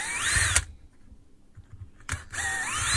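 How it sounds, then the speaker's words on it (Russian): Power screwdriver unscrewing the housing halves of a Makita DTW1001 impact wrench during repair: two short whirring bursts, one at the start and one near the end, close and clear with a quiet gap between. "Теперь откручиваем половинки корпуса."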